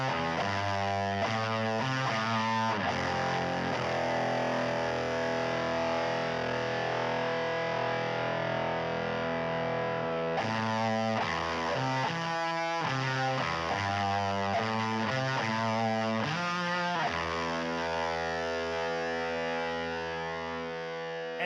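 A heavily distorted electric guitar plays a chunky, rhythmic riff with stops and restarts, loud and alone without voices.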